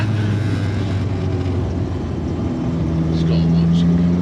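An ex-racing Mk1 VW Golf with about 240 bhp on twin 45 carburettors, revving toward 8,500 rpm in an enclosed space, a loud, continuous engine roar rising in pitch near the end, with talk mixed in.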